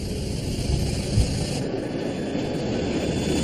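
A steady, loud roar of jet engines from an Airbus A320 airliner on its takeoff run, broadband and sustained throughout with no voices.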